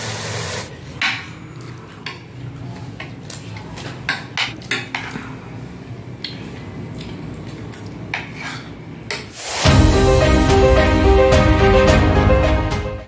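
Cut potatoes tumble into a pot of frying kofta curry, a burst of loud sizzling that follows scattered clinks and scrapes of utensils against cookware.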